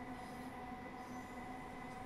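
Quiet, steady rumble of a 4-car electric passenger train running along the rails in Train Simulator, with faint wheel noise and a constant motor hum near Kentish Town on the Sutton to St Albans City route.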